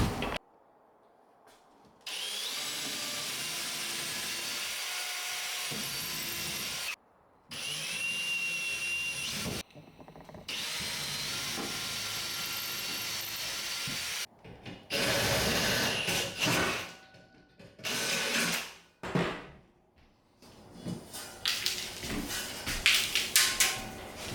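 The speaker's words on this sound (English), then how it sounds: "Because we have hardwood studs, Yeah. I pre-drill the holes." A power drill whirs in long sustained runs, stopping and starting repeatedly, then several shorter bursts as it pre-drills into hardwood studs, loud and close.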